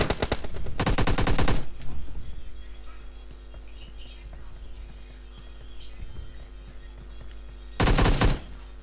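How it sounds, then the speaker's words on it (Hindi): Repeated automatic gunfire in a video game, two loud rapid bursts close together at the start and another burst near the end, with quieter ambient game sounds and faint clopping between them. "ये गोलियां क्यों चली जा रही है बार बार?"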